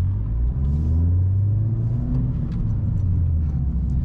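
A fast car with a loud exhaust accelerates past a Vauxhall Corsa E on the road, a deep engine rumble rising and falling as it passes close by, with no talk.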